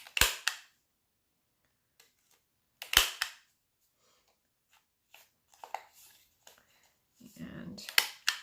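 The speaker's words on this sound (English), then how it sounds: "we're going to round the corners" Corner rounder punch rounding the corners of a paper card, a few sharp isolated clicks and snaps with quiet pauses between, close up, with faint handling rustle and brief speech near the end.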